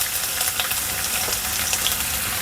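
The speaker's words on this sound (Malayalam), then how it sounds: "നമുക്ക് 5 വെളുത്തുള്ളിയാണ് ചെറുതായിട്ട് അരിഞ്ഞതാണ്. അത് ഈ ചൂടായ തിളച്ച എണ്ണയിലേക്ക് നമുക്കിതങ്ങ് ഇട്ട് കൊടുക്കുക" Finely chopped garlic, five cloves, sizzling in hot oil for a Chinese veg Manchurian, a dense, steady crackling hiss that stays close and even throughout, with no voices.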